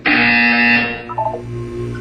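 A loud electronic buzzer from the video game Portal 2 sounds once, a harsh sustained tone that cuts off sharply and leaves a brief, quieter tonal tail.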